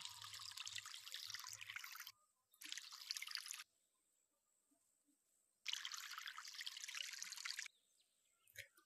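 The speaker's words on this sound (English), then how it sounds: "Water it one final time." Watering tomato crops in the VR farming game Harvest VR produces three separate bursts of hissing, splashing water pouring, with short silent gaps between them and a faint click at the end.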